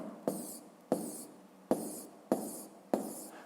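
A pen writes a column of figures on paper, with five separate scratchy strokes at even intervals, each starting sharply and trailing off, close and quiet.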